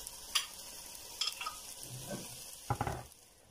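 A blended sauce is poured into a pan of frying poblano pepper strips, giving a soft sizzle with a few scraping and clinking bursts from the pan and utensils. It is fairly quiet and close, with no talking.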